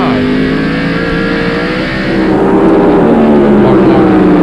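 NASCAR stock cars roar around the track at North Wilkesboro in 1995, one blowing past after a four-tire pit stop, a loud, continuous engine drone whose pitch shifts as the car passes, with race commentary running over it.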